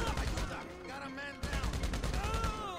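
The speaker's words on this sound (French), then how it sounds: "Heureusement que la mitrailleuse est quand même surpuissante" A machine gun in GTA 5 zombie mode fires rapid bursts of shots. The bursts come in dense, rattling runs that briefly pause near the middle, with a faint voice beneath them.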